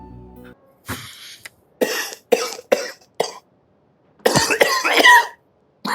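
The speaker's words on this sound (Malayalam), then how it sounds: "അളിയനെന്തോന്ന് കിടന്ന് ചുമക്കുന്നേ?" A man coughs repeatedly in rough, separate bursts, close and loud, ending in a longer harsh fit of coughing.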